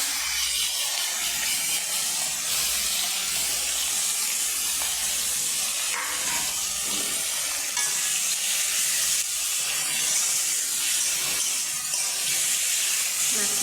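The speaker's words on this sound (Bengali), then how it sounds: "মাছের তেলগুলো ভাজছি" Fish liver mixed with garlic and onion fries in a wok with a loud, continuous sizzling hiss that stays steady throughout, broken only by occasional stirring scrapes.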